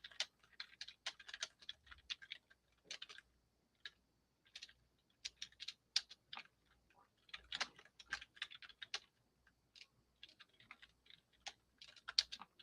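Computer keys clatter in irregular bursts of quick taps separated by short pauses, faint and close in an otherwise quiet room, with no speech.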